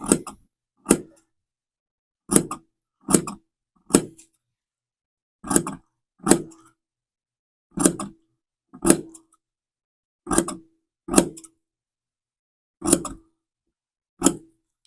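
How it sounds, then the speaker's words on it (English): Sharp scissor snips cutting through the pile of thick woven fabric to make a corduroy effect, about a dozen crisp cuts in an uneven rhythm with brief pauses between them, close and clear. "it's probably better done with smaller scissors. I'm going to cut my pile."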